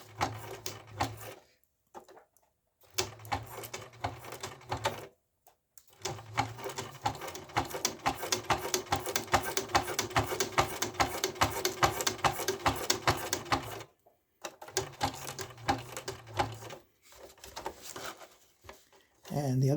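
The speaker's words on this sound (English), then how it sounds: "Now I have a sewing machine, so I will use it, but you can do this by hand." A sewing machine stitches hammock fabric in several long runs of rapid, steady mechanical chatter, separated by short pauses, fairly close and fairly quiet.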